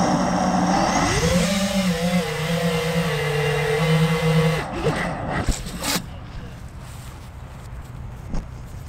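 A quadcopter drone climbs to about ten feet during a crash test, its rotor whine rising in pitch and holding steady, then the throttle cuts abruptly and the hum dies away, followed by a couple of sharp impacts as it drops to the ground.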